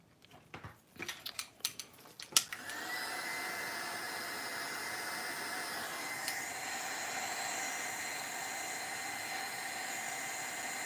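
A heat gun drying modelling paste on a gothic craft box starts after a few brief clicks and handling knocks, then blows as a steady, loud airy whoosh up close, with no talking.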